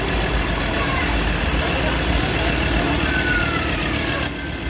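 A rebuilt Ford Ranger pickup engine, just overhauled, idles steadily and loudly throughout, with a dense low rumble and clattering texture, cutting down slightly near the end.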